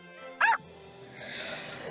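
A small cartoon dog in a Bubble Guppies video game gives a single short, sharp yip-like bark, followed by chiming game music.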